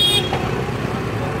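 Busy street traffic in Indore, India, with a steady roadway rumble from passing motor vehicles and a brief high horn toot at the start, all fairly close and loud.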